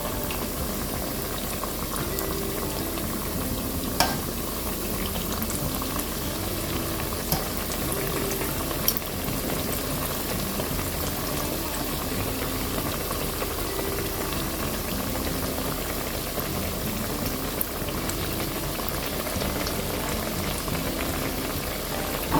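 Romanian papanasi donut dough deep-frying in hot oil, a loud, steady, close sizzling hiss with dense bubbling crackle throughout and occasional sharper pops, no voices.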